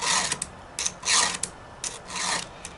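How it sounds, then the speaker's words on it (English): Hand file rasping across the teeth of a Craftsman 10-inch gas pole saw chain, close and fairly quiet, in short repeated strokes of uneven length with brief pauses between them. "you would use this file just like this to sharpen each of your blades"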